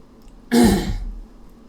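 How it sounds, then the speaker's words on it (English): A single short, rough throat clearing, close and fairly loud, in an otherwise quiet room. "need to clear my throat."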